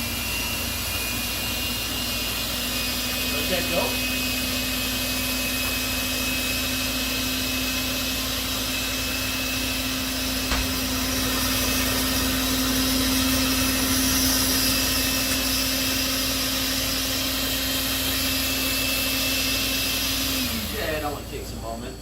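A kitchen mixer whips icing with a continuous loud whirring drone that holds steady for about twenty seconds before winding down, with a few brief words spoken over it.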